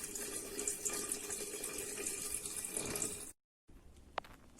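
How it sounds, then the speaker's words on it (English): Water is poured into a glass jar for a children's aquarium activity, a steady, fairly loud rushing stream lasting about three seconds before stopping abruptly, followed by faint quiet and a small clink. "now I am pouring water in this glass jar"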